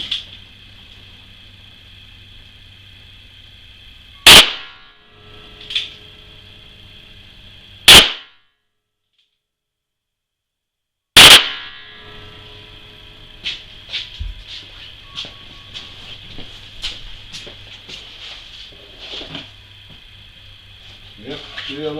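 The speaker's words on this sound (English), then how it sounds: "Now I'm going to try a 357 Magnum in the Blackhawk." Three sharp, loud .357 Magnum shots from a Ruger Blackhawk revolver fired into a sand bullet trap, spaced a few seconds apart, each a sudden crack with a short ringing tail, followed by smaller clicks and handling sounds.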